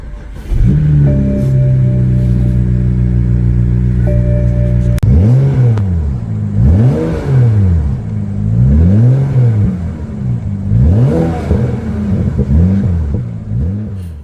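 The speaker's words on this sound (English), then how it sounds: "Ah, yes, that lovely Beamer sound." A BMW engine idles close and loud with a steady hum for several seconds, then a click before it revs repeatedly in rising and falling surges that rumble on for the rest of the clip.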